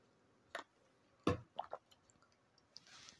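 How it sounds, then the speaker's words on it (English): Several quick sips of water up close: a few short, wet slurping and swallowing sounds in an irregular rhythm, fairly quiet, with no talking. "Don't mind me as I casually take sips of water during this"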